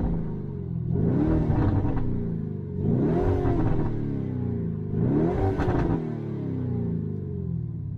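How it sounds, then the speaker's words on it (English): A Lamborghini Urus exhaust blipped three times while parked, each sharp rev rising to a loud roar and falling back to a steady idle rumble, close and with no talk. "I'll just give it a few blips for you so you can hear that exhaust system."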